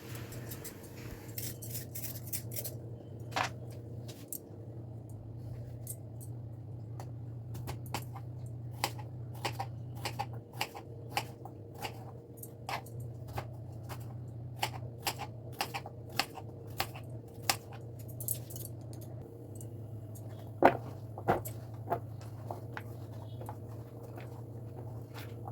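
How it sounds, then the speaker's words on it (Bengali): Peeled potatoes are chopped into small cubes on a kitchen surface: a long run of sharp, irregular knife taps, some louder than others, over a low, steady background hum. "এবার আলুটাকে আমি ডুমু ডুমু করে কেটে নেব।"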